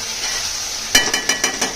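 A spatula stirs tomatoes in hot oil for a quick onion-tomato chicken, with several scraping knocks against the pan over a soft steady sizzle, close and fairly loud.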